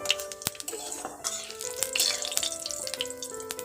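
Whole cumin seeds hitting hot mustard oil in a pan, crackling and sizzling steadily with sharp pops and clicks over a wet frying hiss, close and moderately loud.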